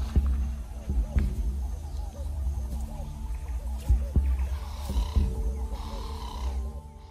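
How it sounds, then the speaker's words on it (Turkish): Lions fighting over territory, giving deep, throbbing growls and roaring snarls with heavy grunts and bursts, close and loud throughout. "Aslanlar bölgesini korumak için ölümüne savaşır."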